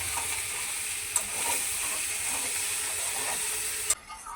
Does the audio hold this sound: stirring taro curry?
yes